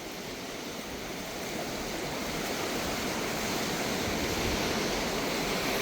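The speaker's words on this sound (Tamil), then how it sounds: "ஏன்னா அப்படியே வந்து கொண்டே இருக்குது தண்ணி" Floodwater from Cyclone Ditwah rushes past the broken Vattuvakal bridge in a continuous, dense roar that swells slightly louder and holds steady with no talk.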